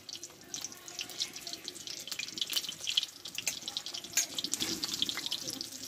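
Spoonfuls of pea batter sizzle and crackle in hot oil, a busy, close, continuous frying hiss with scattered pops and no talking.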